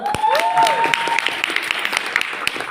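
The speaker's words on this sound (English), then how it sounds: "Whoever did this, can we clap for them?" A short burst of clapping from a small audience, loud at first and thinning out over a couple of seconds, with a brief whistle-like tone at the start.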